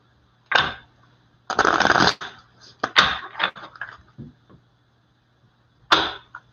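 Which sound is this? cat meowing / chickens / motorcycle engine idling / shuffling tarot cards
shuffling tarot cards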